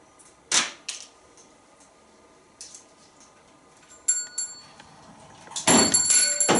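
A pet bird bangs its beak against a small toy bell, giving scattered metallic rings and clinks. Some strikes are sharp and isolated, and a louder burst of ringing comes at the end.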